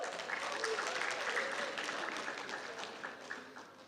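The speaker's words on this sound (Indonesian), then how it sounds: "Tepuk tangan dong buat kalian semua." Audience applause at a university event fills the room with dense, steady clapping. It holds for several seconds before tapering slightly, heard from within the crowd at moderate volume.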